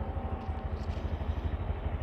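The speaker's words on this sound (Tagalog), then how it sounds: "Sa normal operation ng motor, yan gumagana na yung motor." A motorcycle engine idles with a steady, low chugging pulse, fairly quiet and close, with no voices.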